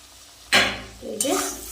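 Chopped onions drop into hot oil left from frying eggs, setting off a sudden loud, close sizzle that continues under a few stirring scrapes and utensil clinks.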